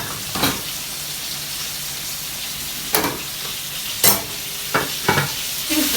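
Chicken frying in a pan, a steady low sizzle close by, broken by a few sharp clatters and stirring scrapes at irregular moments, with no voices.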